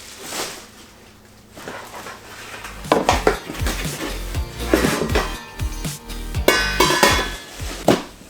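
Heavy All-Clad D3 stainless steel pans and lids being unpacked and set down, sharp metallic clanks and knocks at irregular intervals, close and fairly loud, with no voices.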